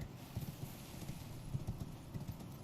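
Horse hooves clip-clopping in a video game during a horse platforming stretch, a steady loud rhythm of hoof falls at close range with no talk over it.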